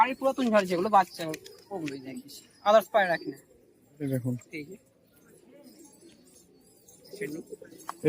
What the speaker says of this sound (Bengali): এই দেখুন এগুলো গিরিবাজ মানে একটা পছন্দের পায়রা